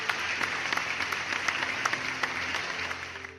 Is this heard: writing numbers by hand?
no